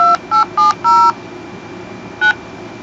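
Touch-tone keypad beeps entering a phone number on an Xbox Live support line: four quick loud tones in a row, a pause, then one more tone, each crisp and close with faint line hiss between.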